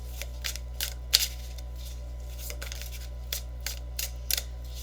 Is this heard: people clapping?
no